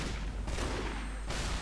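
Dense gunfire rattles without a break through a short burst of online shooter combat, loud and close, with no voices.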